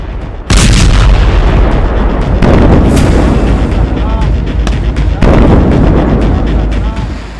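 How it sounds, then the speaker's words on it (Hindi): Israeli missile strikes hitting Lebanon in daylight, heard as loud, continuous booming and rumbling blasts that fill the whole stretch, with fresh impacts breaking in at intervals over a dense roar. "दिन के उजाले में लेबनान पर गिरी इजराइल की मिसाइल।"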